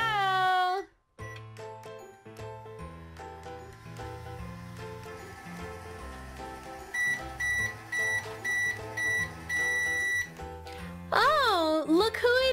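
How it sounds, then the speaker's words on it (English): A toy microwave plays a run of electronic tones and repeated beeps, loud and close, ending in a higher warbling sound. "All right, Rocky, in the microwave you go."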